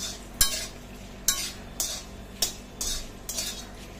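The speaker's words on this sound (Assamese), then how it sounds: "ইয়াতে দিছোঁ হালধি পাউডাৰ দি গোটেইখিনি ভালদৰে লৰাই দিছোঁ" A spoon scrapes and stirs okra with salt and turmeric powder in a pan, with about six distinct scraping strokes at a steady rhythm over a faint background sizzle. No one speaks.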